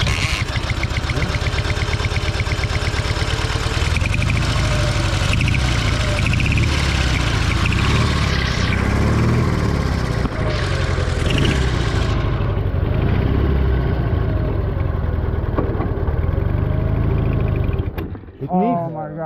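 Russian M72 motorcycle engine running steadily up close, a continuous mid-pitched engine drone with some revving, under loud background talk throughout before cutting off near the end.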